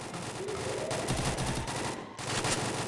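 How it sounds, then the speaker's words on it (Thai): Rapid bursts of Free Fire game gunfire crackle continuously, dense and loud, with a brief dip before the shooting resumes. "เอาขวาเดี๋ยวกว่าขวาเสียงปืนเยอะ"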